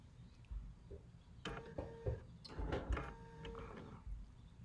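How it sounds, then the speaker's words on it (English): A quilting machine takes a couple of short stitches, a few brief mechanical bursts spread across the moment, close and fairly quiet, with no talking. "I'm going to take a couple little stitches."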